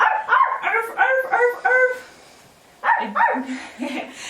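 A woman imitates a dog during a children's movement and yoga routine, giving a quick run of five voiced barks, a short pause, then three or four more barks, close and lively.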